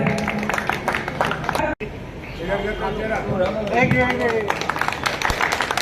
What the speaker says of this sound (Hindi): मोमेंट ऑरियन गुप्ता जोरदार तालियों से स्वागत करें